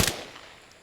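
A single sharp video game pistol shot cracks at the start, then decays quickly into silence.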